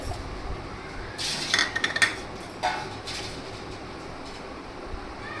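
Chopped pitted dates drop into a steel mixer jar for a date milkshake, giving a few soft clattering knocks and light metallic clinks close by, faint and quiet against a hushed kitchen background.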